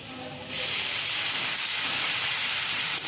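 A sudden loud hiss bursts up as water hits hot frying spices in a pan for Bengali-style ghugni with yellow peas, then holds as a steady close steamy sizzle.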